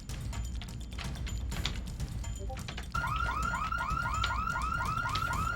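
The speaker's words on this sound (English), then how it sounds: "don't worry too much about the alarm if you're any good at this" Car alarm sounding in the video game The Cleaner, a steady repeating electronic warble that starts abruptly partway through and cycles continuously over a dense, noisy background.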